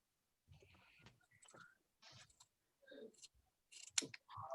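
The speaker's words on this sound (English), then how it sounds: "what you would normally then do is trim your seam allowance" Scissors trimming a fabric seam allowance close to the stitching, a run of quiet, close, irregular snips and clicks with short pauses between them.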